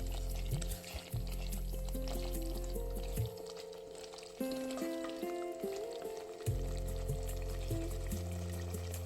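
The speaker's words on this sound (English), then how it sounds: "Stir all the ingredients well." Spices and ingredients for spinach rice cook in a vessel with a soft sizzle and occasional stirring, while a low steady hum runs underneath; faint and close, no talk.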